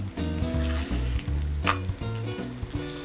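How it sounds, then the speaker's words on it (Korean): Cheese potato hotteok sizzles steadily in a hot oiled frying pan over medium-low heat, a close, continuous crackle with faint utensil scrapes and no voices. "프라이팬이 뜨거워지면 여기에 감자 호떡을 넣고 익혀줍니다."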